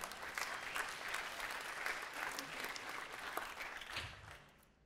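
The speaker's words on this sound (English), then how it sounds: "You can clap for that." Church congregation claps during a sermon, a sustained wash of applause from many hands that holds steady for about four seconds and then fades out.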